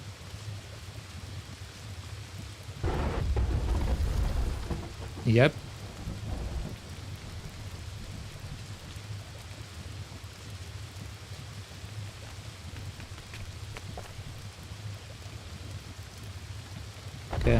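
Steady rain and a heavy rumble of thunder in the video game Candle, the thunder rolling loud and low for a few seconds before rain continues alone, with a brief spoken word.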